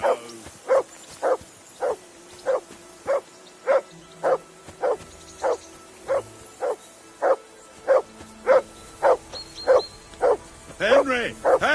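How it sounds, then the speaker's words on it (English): Dog barking in the medieval role-playing game Kingdom Come Deliverance 2: a steady run of about fifteen evenly spaced, loud, close barks, with a voice briefly joining near the end. "Call off that mutt of yours!"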